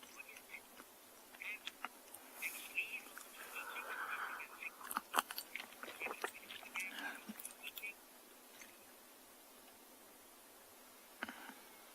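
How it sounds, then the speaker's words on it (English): An elephant on a South African morning safari chews and cracks roots, irregular crunching and snapping clicks up close but faint, quietening after several seconds with one last crack near the end. "I thought maybe the chewing sounds and the cracking of those roots would"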